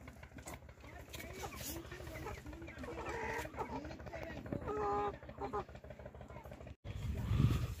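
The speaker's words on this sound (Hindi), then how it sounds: "मुर्गियों को दिया मैंने ये केले में लगा था, जो मुर्गियां लड़ रही हैं आपस में।" Hens in a hillside village squabble and cluck repeatedly over scraps of banana, their calls rising and falling at moderate distance under someone talking, with a motorbike faintly in the background.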